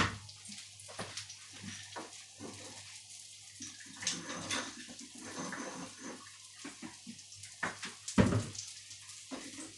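Water runs and splashes in a kitchen while Thai stir-fried fish with basil and chili is being cooked, a steady rushing flow with intermittent clatter and a sharper splash near the end, no one speaking over it.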